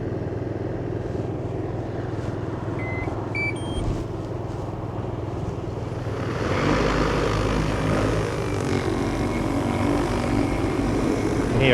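An agricultural spray drone carrying a light load runs its propellers over a carrot field, a steady loud buzzing drone that swells louder partway through as the blades spin up, with no talking.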